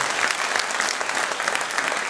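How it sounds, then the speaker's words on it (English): Audience clapping at an academic year inauguration ceremony, a steady, crisp patter of many hands at moderate volume with no voices over it. "Big round of applause."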